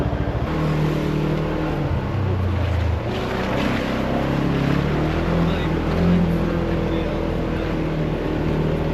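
UTV engines rumble and rev on a rocky off-road trail in West Virginia, a loud, continuous motor drone with surges in throttle and faint wind in the background.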